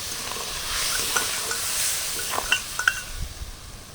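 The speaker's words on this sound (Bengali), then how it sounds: "এবার ধনে জিরে লঙ্কা হলুদ একসাথে সব দিয়ে দিলাম স্বাদ মতো দিয়ে দিলাম নুন আদা কাঁচা লঙ্কার বাটাটা দিয়ে দিলাম" Ground coriander, cumin, chilli and turmeric fry with salt and ginger-green chilli paste in a pan for a ridge gourd dish, giving a soft steady sizzle with a spatula scraping and clinking irregularly near the end.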